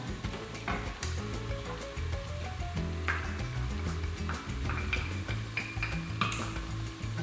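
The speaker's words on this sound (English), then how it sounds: "That wine in there to deglaze your pan." Wine hits a hot pan while cooking Cuban imperial rice, a steady close sizzle with occasional stirring ticks and clinks, no voices over it.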